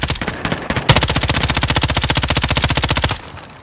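Rapid automatic gunfire in Call of Duty: Modern Warfare, one long sustained burst of evenly spaced shots lasting about two seconds, loud and close, with faint game noise before and after.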